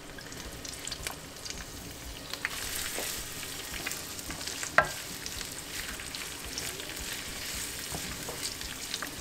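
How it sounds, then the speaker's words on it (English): Onions fry in an oiled pan, a steady close sizzle with occasional stirring scrapes and a sharp clink near the middle, with no voices. "Then add the onions."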